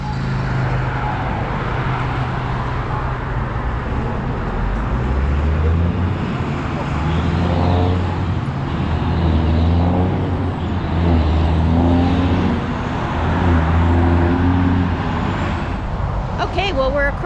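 Busy street traffic in Richland, Washington, with cars, trucks and buses passing in a steady continuous roar while people talk over it throughout.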